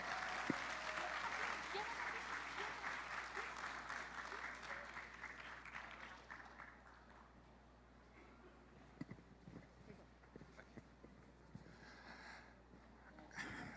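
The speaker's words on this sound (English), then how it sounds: "Please give a round of applause." Audience applause at a foreign policy conference closing plenary in Indonesia, fairly loud at first and then thinning out to scattered claps after several seconds, with a constant low hum underneath.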